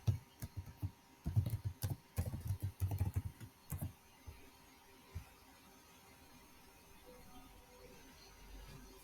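A computer keyboard is tapped in quick close bursts to enter a Microsoft 365 global admin username and password for a PowerShell sign-in, then the keys fall silent into faint room hiss.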